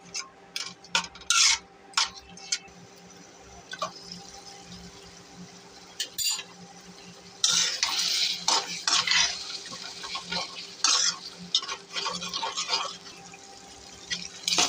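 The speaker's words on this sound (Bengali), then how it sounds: "এখন হলুদের গুঁড়া, মরিচের গুঁড়া, ধনিয়া গুঁড়া, লবণ এগুলো ছেড়ে দিলাম" A spoon scrapes and stirs turmeric, chili and coriander powder with salt sautéing in a pan, with intermittent metallic clinks and scrapes, a louder burst of sizzling and stirring in the latter half, and no talking.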